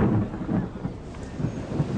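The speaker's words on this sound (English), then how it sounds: "I don't know, and it's raining." Rain falls with a low rumble of thunder, a steady, dense patter under deep rolling booms that swell and fade across the whole span, with no voices.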